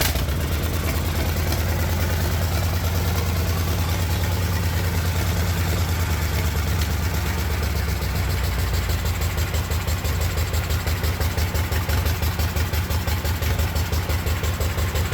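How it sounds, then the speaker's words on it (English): A locked-up tractor engine, running on only three cylinders, idles low with a steady, loud, rumbling chug throughout, and the firing pulses grow slightly sharper and quicker toward the end. "is it going to start on a low idle with 3 cylinders?"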